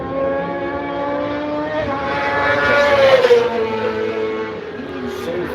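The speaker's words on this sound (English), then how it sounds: "Lovely sound of Ducati of Mark Conlon away through there." A Ducati superbike races past on the Kirkistown circuit during an Ulster Superbike Championship round, its engine note climbing and shifting as it approaches and draws away, loud and continuous with a commentator talking over it.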